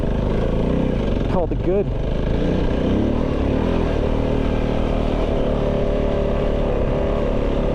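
Kove 450 Rally motorcycle engine running close and loud, with a quick pair of rising revs early on before settling into a steady throaty drone, while someone speaks briefly.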